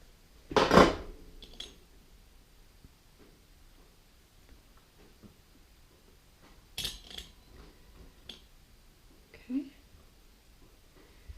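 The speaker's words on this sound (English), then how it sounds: "I'm going to place these into my muffin pan here." Rolled pizza pinwheels set into a metal muffin pan make a few scattered clinks and taps: a sharp one near the start, then softer knocks later, with quiet gaps between.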